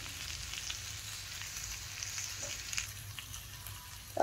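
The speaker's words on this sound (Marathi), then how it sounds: "10-15 मिनिट कारलं छान शिजतं, मंद आचेवर ठेवायचं आहे आपल्याला फक्त." Bitter gourd cooking covered in a pan on a low flame, a soft, steady sizzle and faint crackle that runs unbroken, with a short clatter at the very end.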